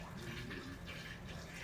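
Steady stream of water from a gallon jug poured through a funnel, a continuous soft splashing wash with no breaks, moderately quiet and close.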